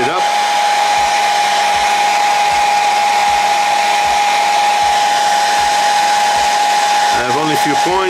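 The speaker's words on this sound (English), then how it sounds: "So I'm just gonna put the heater again. Not too hard, just a little heater." A heat gun blows hot air steadily over a Ferrari 488 Pista scale model, giving a loud, even whirring roar that runs throughout with a high whine on top and a faint rhythmic ticking underneath.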